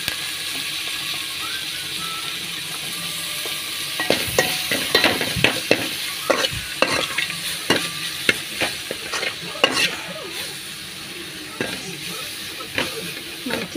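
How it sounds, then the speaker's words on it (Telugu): Curry leaves and coriander fry in a pan with a constant sizzle; after a few seconds a spoon begins stirring and scraping in quick, uneven clatters that carry on close by. "చిన్నంగాకు, కొత్తిమీర, ఇవన్నీ మంచిగా వేగాలి."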